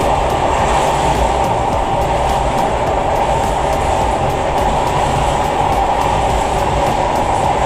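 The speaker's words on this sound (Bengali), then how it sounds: "রেল স্টেশনে ট্রেন এসে গেছে" The Benapole Express passes at Sonapur railway station in a loud, steady rumble of wheels and carriages, with faint rhythmic clacks running through the whole stretch and no talking.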